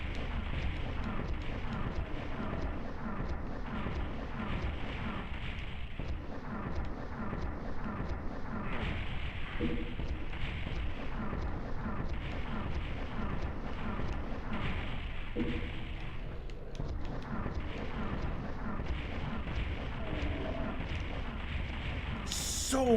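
Missile explosions in the PS1 video game Doom, a dense, continuous barrage of booming blasts and rumbling impacts that repeat without pause, loud and close throughout.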